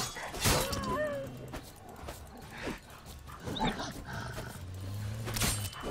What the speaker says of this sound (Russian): А, это волк.